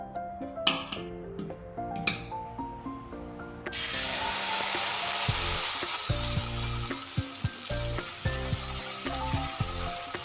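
Onion dosa batter hits an oiled tawa. A few sharp clicks come first, then a bright, steady sizzle takes over and runs to the end over faint background music.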